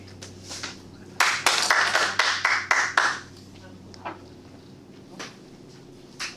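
Hands clap at a Toastmasters club meeting, a short burst of about ten sharp claps over two seconds, then a few scattered isolated claps in a quiet room.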